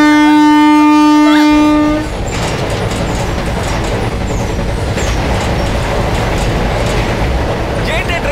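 Loud, steady rumble and clatter of a moving train in a scene from the Dhanush film Rail, following a held musical tone, with a dense roar that carries on continuously to the end.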